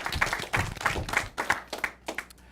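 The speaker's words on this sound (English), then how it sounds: "Let's give these guys a huge round of applause for all those questions answered today." Applause for elementary school quiz teams at an academic derby, a small group clapping close by in uneven bursts that trail off into a few scattered claps.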